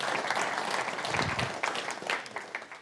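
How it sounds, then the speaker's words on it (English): A room full of people claps steadily, a dense and lively round of applause that gradually thins toward the end. "Special applause for all three of them."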